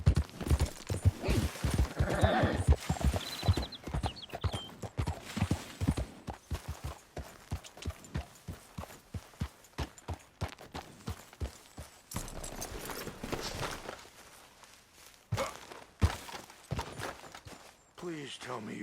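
Horse hooves clip-clop in a steady, repeated rhythm through most of the stretch in Red Dead Redemption 2, fairly close and loud, with game voices talking over the hoofbeats.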